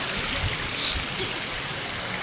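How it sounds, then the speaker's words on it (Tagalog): Mountain stream water flowing: a continuous, loud, close rushing wash with no pauses. "Galing sa bundok yung tubig"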